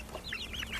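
A free-range chicken in an outdoor pen gives a couple of quick, close clucks, short chirpy calls over a low background rumble.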